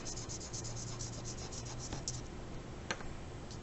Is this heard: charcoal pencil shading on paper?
yes